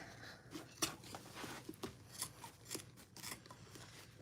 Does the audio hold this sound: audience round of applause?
no